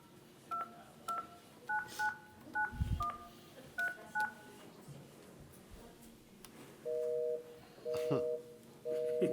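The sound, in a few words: telephone keypad dialing tones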